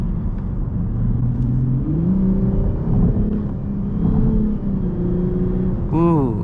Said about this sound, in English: I love the engine sound actually